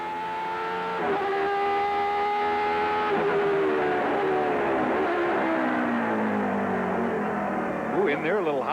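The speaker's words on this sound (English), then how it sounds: "Great sounding V10 engine." Judd V10 engine in a race car at Mid-Ohio in 2000, a loud high-pitched wail climbing through gears as it accelerates out of a fast corner, with a commentator speaking over it.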